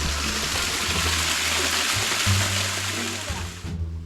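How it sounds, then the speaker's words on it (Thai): Steady rushing water of a waterfall pours continuously, a dense hiss like a tap running hard into a basin, with a low hum underneath. "มันเหมือนเปิดน้ำใส่กะละมังที่บ้านอะ"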